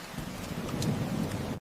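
Heavy rain pours down steadily outside the gates of a mansion, a dense, loud, continuous wash with a low rumble beneath it, lasting without a break before cutting off abruptly at the end.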